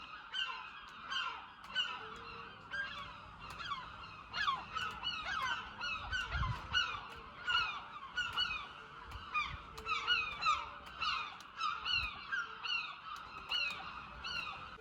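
Geese honk repeatedly outdoors in a Scotland lockdown setting, a rhythmic run of calls from several birds at moderate distance, fairly faint, with occasional low thumps beneath.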